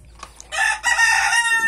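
Chicks and chickens clucking and calling up close, a few soft notes first, then a loud sustained burst of squawking clucks without talk.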